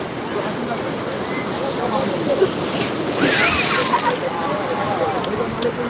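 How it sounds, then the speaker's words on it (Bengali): Sea waves roll and wash onto Digha Mohana beach in a steady broad surf roar mixed with wind buffeting, and people's voices faintly under it. "দারুণ ঢেউ দারুণ"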